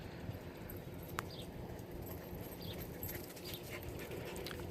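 Puppies whimper and whine softly amid light shuffling and panting, a quiet, close, intermittent sound with a faint thin squeak.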